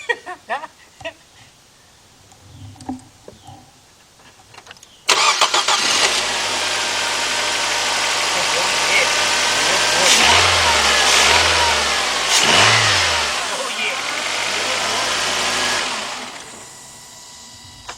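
A 2013 Nissan Sentra 1.8 with a cylinder 1 misfire cranks and starts, then runs roughly with uneven revving surges before settling to a lopsided idle, close and loud, after quiet shop clatter.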